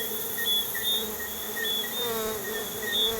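Honeybees hum close by as a colony taken from a truck brake drum is moved into a box. The buzzing is steady and dense, with individual bees whining past in short rising and falling tones.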